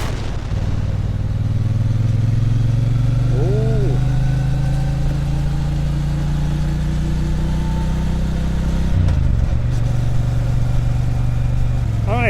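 A Triumph Bonneville T120 motorcycle pulls along in low gear with a loud, steady, deep engine drone; the pitch dips briefly near the end as if shifting gear.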